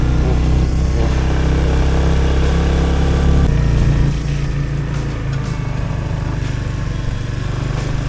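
A motorcycle rides along a mountain road near Darjeeling, its engine a loud, close, steady drone that drops slightly in pitch and level partway through, with no one speaking.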